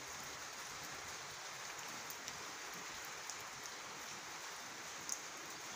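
Light drizzle falls in a soft, steady hiss, quiet and even throughout, with a few faint drop ticks and no voices.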